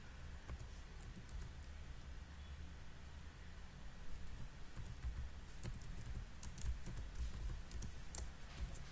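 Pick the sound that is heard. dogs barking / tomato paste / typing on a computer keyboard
typing on a computer keyboard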